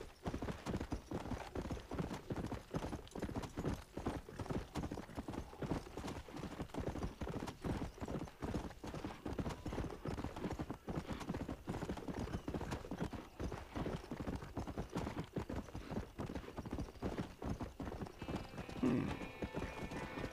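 Steady clip-clop of horse hooves trotting without pause in the video game Red Dead Redemption, with a brief whinny near the end and faint background noise.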